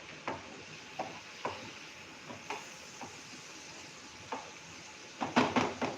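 A spoon stirs a momos paratha mixture in a bowl, giving soft, regular scraping strokes about once a second, closing with a quick burst of faster clattering stirs; close and fairly quiet.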